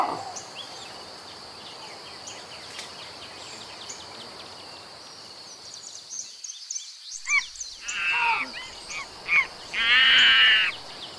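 Birds call across the Pantanal wetlands at dawn. Harsh, cawing cries rise over a soft insect-like background, grow louder and closer toward the end, and finish in a loud sustained squawk.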